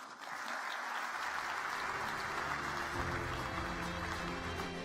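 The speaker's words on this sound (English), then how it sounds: "Another round of applause for Honorable Paula Ingabire as she takes her seat" Sustained dense applause from a large ceremony audience at a youth closing event and pitch finals, a continuous wash of clapping that holds steady throughout, with a low murmur and faint background tones beneath.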